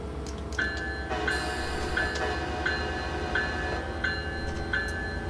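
Passenger train departing Elberon on the North Jersey Coast line in Train Simulator 2016, a steady low rumble with regular clicking beats from the wheels and a faint high tone, with no voices.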